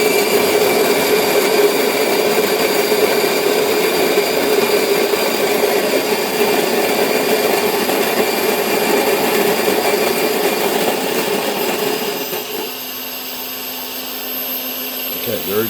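An electric grinder grinding fresh roasted coffee beans, a loud steady whirring drone with a high whine that runs close for about twelve seconds before winding down and easing off.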